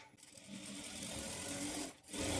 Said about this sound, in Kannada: ಈ ಥರ ಉದ್ದಕ್ಕೂ ಮಧ್ಯದಲ್ಲಿ ಒಂದು ಸ್ಟಿಚ್ಚನ್ನು ಹಾಕ್ಕೊಂಡಿದ್ದೀವಿ